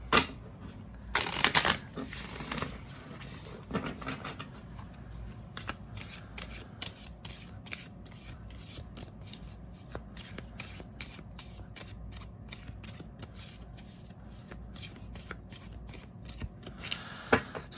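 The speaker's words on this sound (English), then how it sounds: "that shuffle's great" Tarot cards are riffled and shuffled close up, a couple of loud bursts followed by steady, rapid flicking and slapping of cards.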